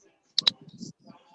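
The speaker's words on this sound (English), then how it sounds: "So he gets a click and a treat" Two quick sharp clicks from a dog training clicker, close and crisp, followed by soft low shuffling and faint background noise.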